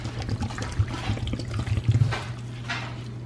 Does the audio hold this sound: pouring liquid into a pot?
yes